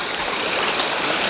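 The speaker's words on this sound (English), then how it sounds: "we reached Rex Creek, which is like the first real creek that you can like reach" Rex Creek in North Cascades National Park flowing steadily, a close, loud rushing and babbling of water over rocks with no voices.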